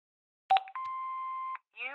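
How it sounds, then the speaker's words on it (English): An answering machine in the Broken Sword 5 adventure game plays a short electronic blip followed by a steady, clear beep tone of nearly a second, then a voice begins. "Hobbs's answer phone, and he's got messages."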